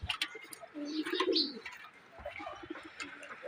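Domestic pigeons kept in a home loft cooing, soft throaty coos mixed with a few chirps and higher calls, close by, with faint background noise.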